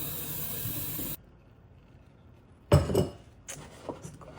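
Hot water run into a mug, a loud, steady hissing gush for about a second that stops sharply, then a quiet pause and several close clinks and knocks of crockery.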